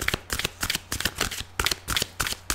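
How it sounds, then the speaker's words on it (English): A tarot deck being shuffled up close, fast repeated papery riffles and slaps in an even rhythm, loud and alone without any voice. "Please fast forward if you don't like the shuffling."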